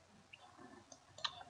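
A couple of soft, quick computer mouse clicks tick out in a quiet room, faint and isolated.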